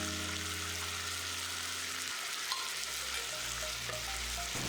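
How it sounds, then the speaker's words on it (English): Fish fillet stir-frying in sauce with spring onions, a steady close sizzle and hiss running throughout, with a low hum in the first half and soft scraping clinks of stirring later. "Fry all this till the sauce is almost dry."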